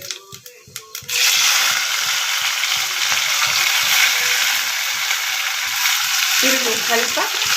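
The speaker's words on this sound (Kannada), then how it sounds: "ಸ್ವಲ್ಪ ಎಣ್ಣೆ ಒಳಗೆ ಬಾಡಿಸ್ಕೋಬೇಕು" Vegetables for veg pulao hit hot ghee and peanut oil: after a few light clatters, a loud steady sizzle takes over and continues close-up, with a stirring scrape near the end and no speech.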